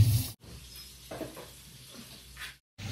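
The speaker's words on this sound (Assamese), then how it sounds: "মাছখিনি এতিয়া এইফালে তেল দি দিছোঁ এতিয়া অলপ ফ্ৰাই কৰিম" Fish fry in oil in a home kitchen, giving a low, steady sizzle broken by soft stirring scrapes and brief gaps, heard close with no talk.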